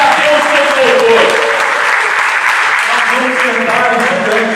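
Church congregation at an anniversary service clapping together in praise, a loud, sustained, dense applause close by, with voices mixed in underneath.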